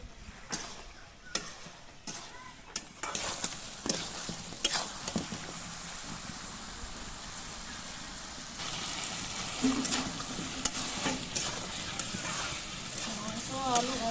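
Chicken pieces and potatoes frying in a pan for a village-style curry give a steady sizzle, with clattering stirs and scrapes early on and louder hissing frying later. A voice talks over part of it.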